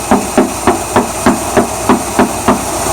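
Rhythmic metallic ticking from an idling car engine with a suspected catalytic converter fault and loss of power, about nine evenly spaced knocks repeating steadily over a constant hiss, close and clear with no talk.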